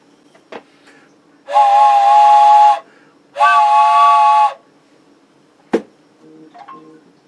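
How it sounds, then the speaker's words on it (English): A train steam whistle gives two loud, sustained blasts of a couple of seconds each, framed by brief sharp clanks in a quiet setting. "More train whistle, please."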